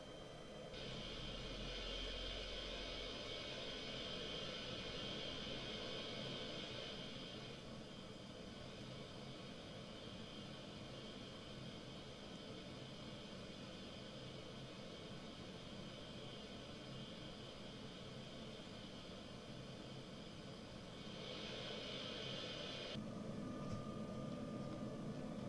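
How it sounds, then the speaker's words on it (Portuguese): An Airbus A320's auxiliary power unit running in the X-Plane 11 flight simulator, a steady, quiet whine and hiss of turbine noise that drones on unchanged throughout. "Liguei o APU."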